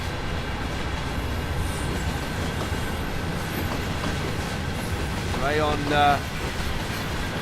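A Class 363 electric train in red Deutsche Bahn livery rolls past in Train Sim World 4, a steady broad rumble with a brief rise as it passes, while a voice speaks over it.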